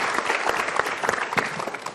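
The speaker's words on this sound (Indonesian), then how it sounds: "Ya, kita berikan tepuk tangan dulu." Studio audience at an Indonesian televised motivational talk show bursts into steady, dense applause, loud and continuous throughout.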